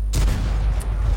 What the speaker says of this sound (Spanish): aquí probo algún tiro al KV-4